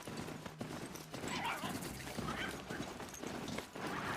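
Horse hooves clip-clop steadily in the Horizon Zero Dawn video game, a continuous rhythmic trotting over a dense bed of game ambience and background sound, fairly loud throughout.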